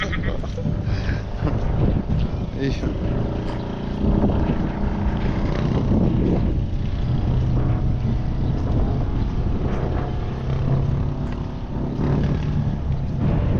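Steady droning Honda boat engines run continuously, loud and close, with wind buffeting the microphone throughout.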